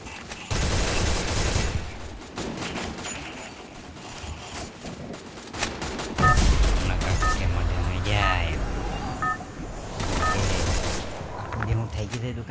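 Gunfire from the Free Fire battle royale video game, with bursts of shots and rapid volleys at varying distance alongside other game sounds and a voice talking over parts of the action.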